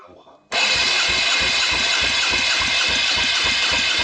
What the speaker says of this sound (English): You have to crank the engine about 8 or 10 times